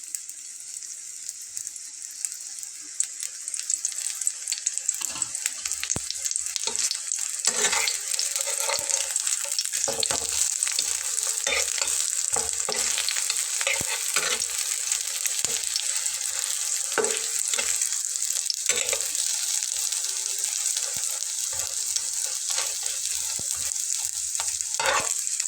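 An egg paratha fries in a little oil on a pan, a soft start building into a constant close sizzle with scattered scraping and flipping clicks, heard alone without speech.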